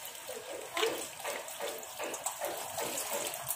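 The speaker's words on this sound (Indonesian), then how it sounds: "pertama kita cuci bersih" Running tap water pours steadily while fresh spinach and carrots are washed under it, a continuous close splashing wash with small surges, no talk.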